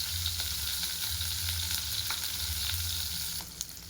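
Onion, garlic and cashews frying in a pan for a Nepali kadai paneer, giving a loud continuous close sizzle with a low steady hum beneath and small scattered crackles throughout; no speech.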